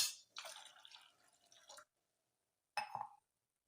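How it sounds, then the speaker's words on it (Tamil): A tumbler of water pours and splashes into a cooking pot for over a second, stops, then a brief second splash follows after a short pause. "இதில் இருக்கிற தண்ணி போதாது, இந்த 1 டம்ளர் தண்ணி சேர்த்துக்கிறேன்"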